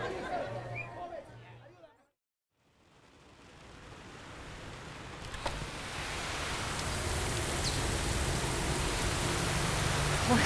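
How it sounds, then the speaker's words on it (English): Heavy rain pouring in the Amazon rainforest, a broad roaring hiss that fades in after a brief silence and grows steadily louder, following muffled talk at the start. "Listen to the sound of that rain."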